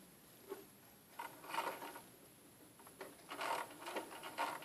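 Sewing machine running a zigzag stitch while stitching a bodkin to a thread, heard as faint, quiet bursts of rapid mechanical whirring separated by short pauses.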